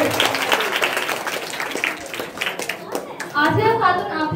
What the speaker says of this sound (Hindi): आसिया खातून के लिए एक बार जोरदार तालियां।